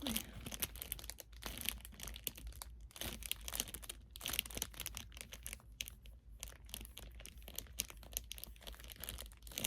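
Continuous crisp crinkling and crunching of a plastic book cover being handled close up, with irregular rustles and no talking.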